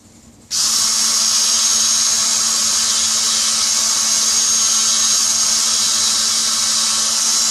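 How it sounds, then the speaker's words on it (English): A power sander on a part of an HK G3-style Tippmann A5 build kicks in abruptly and runs with a steady, loud, close high-pitched whir for the rest of the clip. "Just gonna sand it down."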